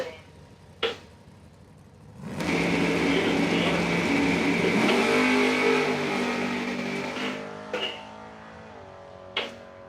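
A drag-racing car, a Camaro at a Friday race event, launches down the strip with a loud engine roar rising from a quiet idle and fading away, with brief clicks before and after and an announcer talking over it.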